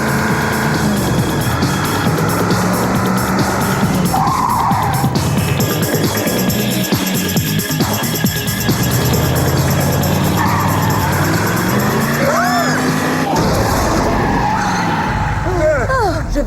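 A cartoon car races fast and skids, loud revving engine and screeching tires with sliding pitch sweeps, mixed with dramatic effects and voices talking over it throughout.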